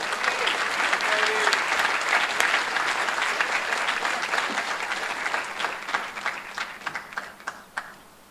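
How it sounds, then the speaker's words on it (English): A large audience applauds at a community fundraising campaign kickoff event, sustained dense clapping that gradually thins into scattered individual claps as it dies away. "huge round of applause"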